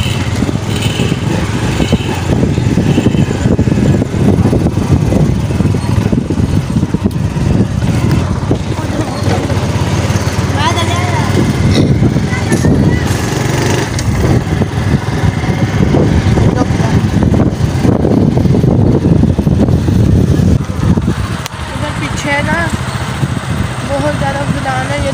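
A motorcycle rides through a village with a continuous, loud engine drone and wind rumble that hold steady for the whole stretch. Voices talk underneath the engine noise.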